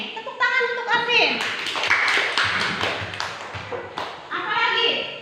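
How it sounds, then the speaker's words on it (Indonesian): A primary school class bursts into applause for a student, a loud cluster of quick hand claps between a teacher's speaking and children's voices. "Tepuk tangan untuk Arvin."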